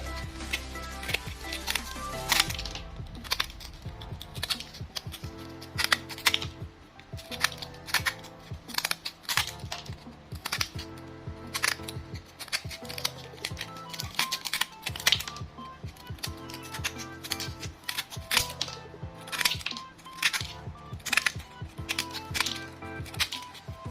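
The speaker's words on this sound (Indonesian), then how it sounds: "kita potong menggunakan gunting" Scissors repeatedly cutting a bottle cap into a disc for a homemade mini grinder made from an old toy motor: a long run of sharp, close snipping clicks in an uneven rhythm, with no talk.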